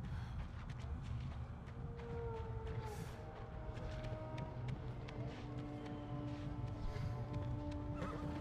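Horses neigh and whinny repeatedly while hooves clatter in a steady rhythm beneath them, fairly close and continuous, in the video game Ghost of Tsushima.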